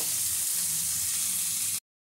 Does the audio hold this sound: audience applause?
no